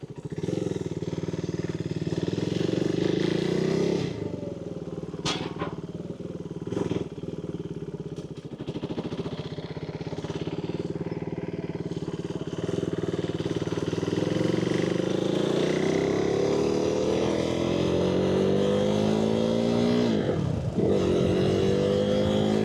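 Motorcycle engine during wheelie stunt practice, a loud nearby drone that dips and surges through several revs and gear changes, with clutch pulls and rising pitch toward the end.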